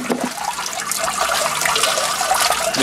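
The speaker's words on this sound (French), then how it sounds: "Pas mis beaucoup de l'eau dans le deuxième rinçage alors?" Water pouring and splashing steadily into a basin for rinsing, a continuous close watery rush lasting throughout with no voices.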